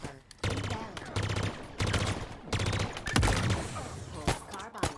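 Repeated short bursts of pulse carbine fire from the video game Halo Infinite, about five quick volleys in a steady rhythm, close and fairly loud, each a rapid pulsing string of shots.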